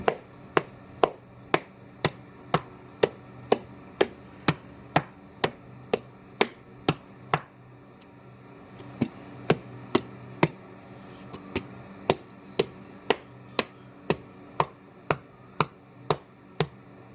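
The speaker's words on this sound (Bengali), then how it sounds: "এরকম একটা ব্যাট নেব, ব্যাটটা দিয়ে মারবো মেরে মেরে।" A doormat being beaten with a bat, sharp loud whacks in a steady rhythm of about two per second, with a short pause around eight seconds before the strikes resume.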